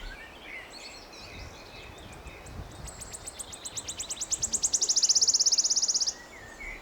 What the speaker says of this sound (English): we saw that wood warbler, it was beautiful